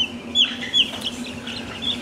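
Five-day-old broiler chicks give a few high, thin peeping chirps close by over a low steady hum, likely from a brooder heater or fan.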